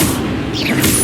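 An Incendio fire spell cast during Hogwarts Legacy gameplay, heard as a loud, dense burst of roaring, crackling game effects that fills the whole brief moment.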